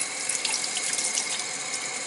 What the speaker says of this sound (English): turn on some warm water and let it run over the gel portion